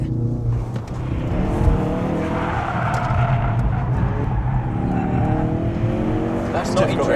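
A Ford Focus RS understeers while trying to drift, its engine roaring and tires squealing continuously at close range, with people talking over it.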